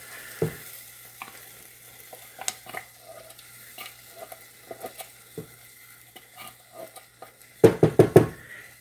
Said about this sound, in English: See, it's starting to boil already. You can hear it. It's this soup.